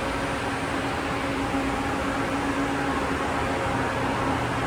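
A commercial elevator hoist machine on car 13 runs with a steady, even broadband whir and a low motor hum, holding constant throughout with no talk.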